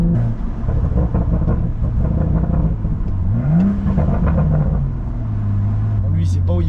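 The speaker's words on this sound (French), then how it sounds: "Ça souffle, tu sens que le turbo il souffle." A tuned BMW M135i with the N55 turbo engine accelerates on the road, a loud, steady low drone rising in pitch midway and then settling, with cabin speech over it.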